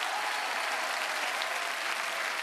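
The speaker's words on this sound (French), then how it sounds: "Vous pouvez applaudir très très fort." A theatre audience at a live comedy show breaks into loud, steady applause, a dense wash of many hands clapping continuously without any pause.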